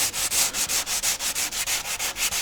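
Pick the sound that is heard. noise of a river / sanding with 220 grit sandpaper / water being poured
sanding with 220 grit sandpaper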